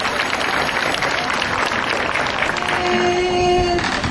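A parish congregation applauds the Nossa Senhora de Fátima community during a Bible walk, giving dense, continuous clapping that holds steady throughout while a faint sustained tone enters near the end.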